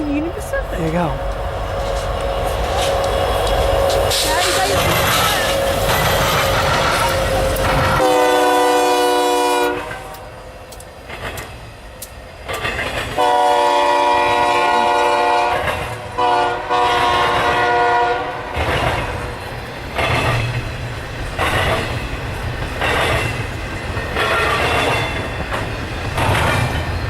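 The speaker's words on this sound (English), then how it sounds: "The next train we saw here was a westbound intermodal train led by two BNSF" A westbound intermodal freight train led by two BNSF locomotives rolls past close by, with long blasts of the horn, heavy engine rumble and steady clattering wheels over the rails.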